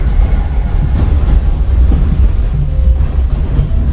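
The Walt Disney World Railroad train rolls along near Fantasyland with a steady low rumble and faint clickety-clack of wheels, close by and continuous, with no voices.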